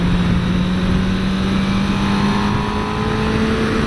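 A 2016 Suzuki GSX-R 750 motorcycle engine drones steadily while being ridden, holding a loud, even hum with a slowly rising pitch throughout and no talking.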